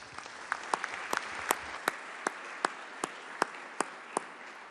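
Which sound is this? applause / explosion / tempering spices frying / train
applause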